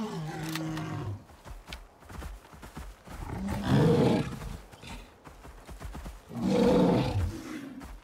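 A bear in the survival game Icarus lets out two deep, growling roars a few seconds apart, loud and close, with heavy footsteps and low rumbling between them.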